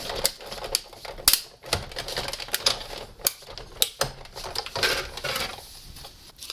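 A hand-cranked paper die-cutting machine runs glimmer paper between two cutting plates, giving a close, steady series of ratcheting clicks and rattling mechanical clatter throughout.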